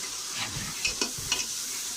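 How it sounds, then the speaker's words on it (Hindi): Masala with ginger and garlic sizzles softly in a pan while a spoon scrapes and stirs through it a few times, close up and quiet. "इसको थोड़ा सा भूनेंगे।"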